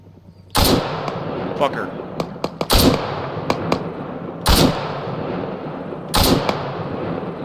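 Gunshots ring out in the military shooter Arma 3: four loud, sharp reports a couple of seconds apart, with smaller cracks between them, and someone speaking briefly over the action.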